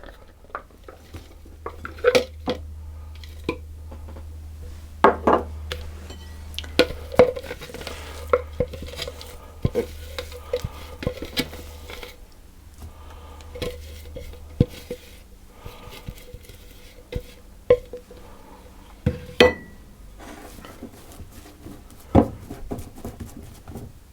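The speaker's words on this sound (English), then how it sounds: "what I'm going to do with that mixture is to tip that out into a bowl" An almond and oatmeal cookie mixture is tipped and scraped out into a bowl, heard as soft scraping, rustling and scattered sharp knocks and clinks of utensils against the bowl over a quiet room.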